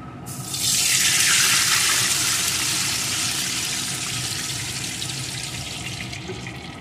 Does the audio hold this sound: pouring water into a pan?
yes